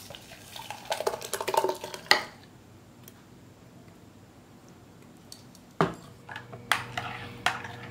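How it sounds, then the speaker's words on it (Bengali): A spoon clinks and swirls in a glass of watermelon mojito, a busy burst of stirring and tinkling followed by a quiet pause, then a few scattered clinks against the glass, close and fairly soft. "এটাকে আমি ভালো করে নেড়ে নেব সবকিছু মিক্স করে।"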